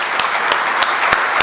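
Audience applause at a grand opening of a Veterans Affairs office in a senior center, honoring VFW and Marine Corps League veterans: a steady wash of clapping punctuated by a few sharp, evenly spaced louder claps.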